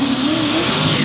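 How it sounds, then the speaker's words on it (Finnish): A pulling tractor accelerates hard off the start at a tractor pulling event, its loud engine roaring steadily and climbing in pitch, close and continuous with no talk over it. "Ja näin lähtee Tommi sieltä kiihdyttämään."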